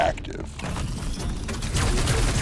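Rapid mechanical gunfire and metallic clatter from the sci-fi horror video game The Callisto Protocol, dense and continuous throughout, with a player's voice talking underneath.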